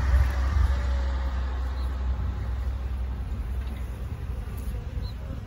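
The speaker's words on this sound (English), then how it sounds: "Look at all those bees coming out right now." Honey bees buzz in a dense, steady hum as newly emerged workers crawl out of brood comb in spring, close to the microphone, with faint low vehicle rumble beneath.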